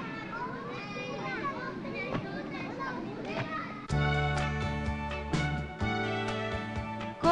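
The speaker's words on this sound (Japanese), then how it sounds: "公園の奈良の林の中で、幼稚園の子どもたちが遊んでいました。" Young kindergarten children play in a wooded nature park, their voices chattering and calling in a busy mix. Partway through, a steady tonal backing joins in and continues under the voices.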